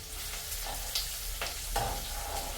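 Onion, green chili and curry leaves sizzle in hot oil as a spoon stirs them around the pan, giving a steady, fairly quiet frying hiss broken by a few soft scraping strokes.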